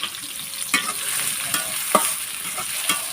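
Chopped onion and chilli frying in a pan make a steady close sizzle, punctuated by regular spatula scrapes and clinks about every half second, with no voices.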